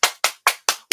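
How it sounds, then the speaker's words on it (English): Clapping for a performer at an LGBTQ+ Pride cabaret: five sharp, close, evenly spaced hand claps in quick succession, with no voices. "Let's all clap and cheer and whoop and piss off our neighbours for Danny Ash."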